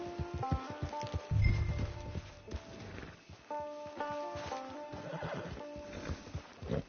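A cartoon horse at a western range camp in Quick Draw McGraw gives a loud whinnying neigh, followed by rhythmic clip-clop hoofbeats and more neighs, all close and prominent with no talk over them.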